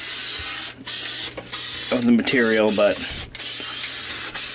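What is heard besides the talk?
spraying adhesive from a spray can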